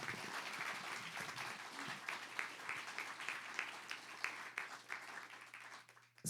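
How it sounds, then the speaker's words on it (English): Steady applause from an event audience, many hands clapping continuously at moderate loudness for several seconds. "Can we just give them all a round of applause?"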